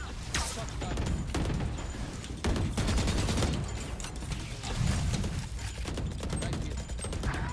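Rapid gunfire from a Valorant match, with repeated loud bursts of automatic shots and sharp single cracks spread across the clip, layered with game effects and faint voice chat.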